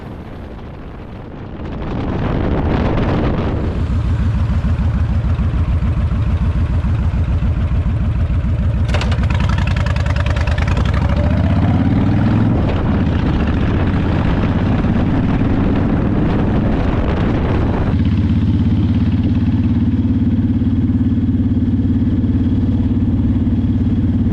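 An engine roars loudly through heavy wind buffeting, its pitch shifting as a motorcycle passes, then settling into a steady rumble.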